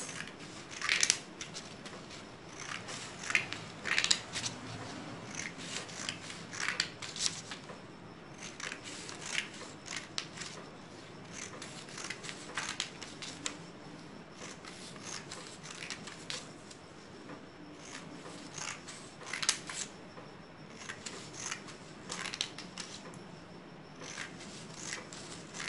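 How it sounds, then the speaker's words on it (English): Scissors snip repeatedly through material, cutting layers for a handmade flower basket, in quiet bursts of crisp cuts and rustling with short pauses between, close and fairly soft throughout. "Like this, cut it and take the scissor and do this one."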